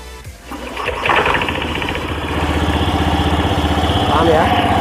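A Honda Beat scooter engine, just fitted with a new CVT, cranks and fires, then settles into a steady close putter of idling while someone talks over it.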